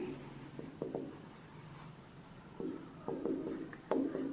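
Pen strokes scratch across paper while figures are written for a class 11 accounting rectification-of-errors problem, coming in short close bursts separated by pauses.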